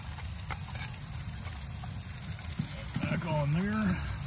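A steak seasoned with Montreal steak spice sizzles steadily in a pan at a cold, windy hot-tent campsite, a constant crackling fry, with a voice speaking briefly near the end.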